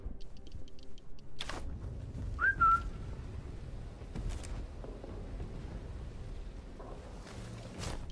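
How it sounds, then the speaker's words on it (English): A short whistled tone in the World War II shooter Sniper Elite 5, a brief rising-falling whistle amid quiet game ambience, with scattered thumps and muffled bursts before and after. "I gotta do more of my whistle tricks from the previous episodes."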